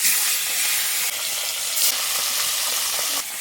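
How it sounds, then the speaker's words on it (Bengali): Pomfret fish rubbed with salt and turmeric sizzling in a little oil in a pan, a steady close bright hiss of frying without pause. "মাছটা হালকা ভাজা দেবো,"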